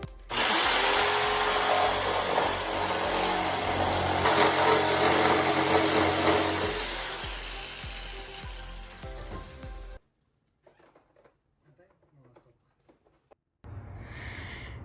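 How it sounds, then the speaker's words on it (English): A jigsaw cuts away unneeded pieces of interlocking garage floor tiles, a loud continuous buzzing whine for about ten seconds that stops abruptly, followed by quiet handling noises and a short burst of sound at the end. "Another way you can cut out the pieces you don't need is with the jigsaw."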